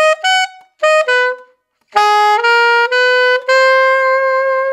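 Alto saxophone plays two phrases back to back: a short, choppy figure of clipped notes, a pause, then a run of longer, sustained notes climbing chromatically, solo and close.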